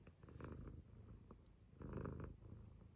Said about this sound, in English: Oh my goodness, that purr. Can you hear that?